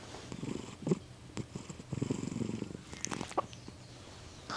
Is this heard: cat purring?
yes